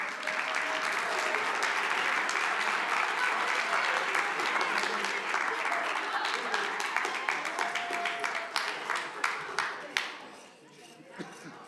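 An audience at a city council meeting applauds: a dense, sustained round of clapping that lasts about ten seconds, then thins into scattered claps and fades into quiet room murmur.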